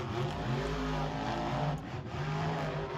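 Monster trucks Excalibur and Kraken roar in a race at a Monster Truck Insanity event at Lake Havasu, a continuous loud engine drone with a slight wavering pitch.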